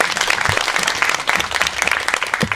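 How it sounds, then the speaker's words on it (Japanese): Audience applause at a song, dance and fashion show event, dense continuous clapping from a crowd, loud and close throughout. "皆様今一度大きな拍手をお願いいたします。"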